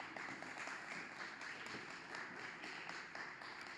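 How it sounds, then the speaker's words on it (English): Audience applause after a band set at the ESTEC Open Day, a faint, continuous patter of clapping heard from a distance, low and steady without distinct peaks. "Oh, big round of applause."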